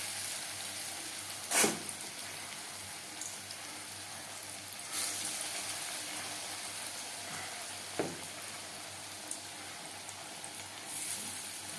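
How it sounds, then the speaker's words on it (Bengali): Jute leaf pakoras shallow frying in oil over a medium flame give a steady, soft, hissing sizzle, with a couple of sharper crackles and a brief clatter, and no voices. "আমি এখানে শ্যালো ফ্রাই করছি"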